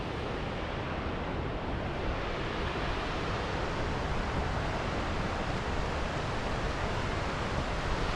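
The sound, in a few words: waterfall near a creek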